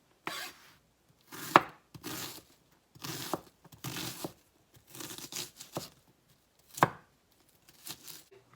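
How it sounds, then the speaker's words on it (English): A knife rough-chops one medium-sized onion on a cutting board for meatloaf, making close, crisp bursts of chopping strokes in uneven clusters, with short quiet gaps between them. "You're just sort of rough chopping one medium-sized onion."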